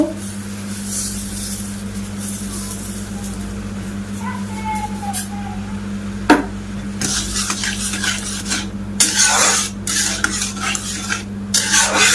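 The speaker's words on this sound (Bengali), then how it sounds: "এবার আমগুলো জাল দিয়ে নেবো ভালো করে" Raw green mango pulp being cooked and stirred in a pan, a spoon scraping and knocking against the metal over a low steady sizzle, with sharper clatters and busier stirring later on; no one speaks.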